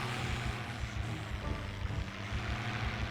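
A vehicle engine idles in the video game Project Zomboid, a low steady rumble that runs throughout at moderate loudness with no voices.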